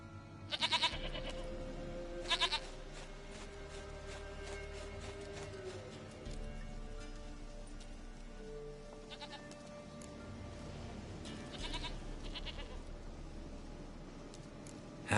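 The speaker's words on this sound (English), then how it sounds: "Goat of mine, dearest," A goat in The Witcher 3 gives a few short nasal bleats at the start and near the end, over a quiet in-game ambience with a low rumbling background.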